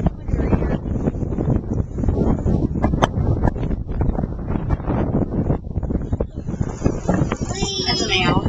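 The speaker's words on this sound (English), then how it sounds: "The wind is blowing her." Wind gusts buffet the microphone outdoors in a farm yard where Yorkiepoo puppies run, a rough uneven rumble with rustling throughout and a person speaking over it.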